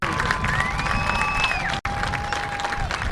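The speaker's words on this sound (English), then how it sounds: "Once again, a round of applause for these two teams" A stadium crowd at a college football bowl game between the Moorpark Raiders and Santa Barbara Vaqueros applauds and cheers in a steady broad roar, with whistles rising above it and a brief cutout midway.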